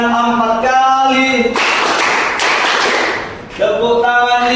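A class claps hands in counted rounds, crisp sharp claps in quick bursts between stretches of a sung, chanting voice.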